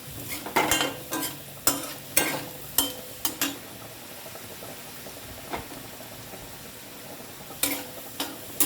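Garlic fries in oil in a pan, a soft steady sizzle broken by several sharp clinks and scrapes of a utensil stirring against the pan, close and without speech.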